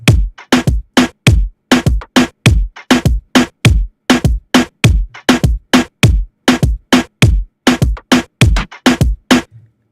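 A reggaeton beat loop built in Studio One plays alone: a steady, punchy pattern of short percussive hits with deep low thumps, repeating at an even, bouncing tempo for the whole stretch with no voices.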